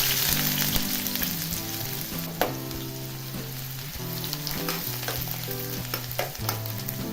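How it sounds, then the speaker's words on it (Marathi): Onion frying in a pan with cumin, cardamom and cinnamon, a loud continuous sizzle with scraping stirring strokes, close and without talk. "आता त्यामध्ये कांदा घालायचा."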